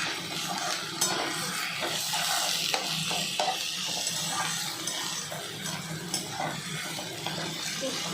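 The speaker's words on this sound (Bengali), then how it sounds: "পেঁয়াজটা আমি ভাজতে একটু লাল লাল করে ভাজবো।" Onion frying in a pan until reddish-brown gives a steady soft sizzle with occasional stirring scrapes and light clinks of utensils against the pan, close by, with no talk.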